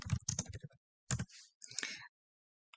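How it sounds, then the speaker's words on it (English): Typing a caption on a computer keyboard while filling out a spreadsheet: a quick burst of close keystrokes, a pause, then another short run of clicks, with nothing else audible. "you would just type caption here"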